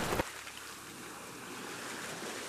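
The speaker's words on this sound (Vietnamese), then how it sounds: "Nước dâng cao rồi, lũ rồi," Rushing floodwater in an animated cartoon storm scene, a soft, continuous broadband wash after a brief louder burst at the start, faint and steady with no voices.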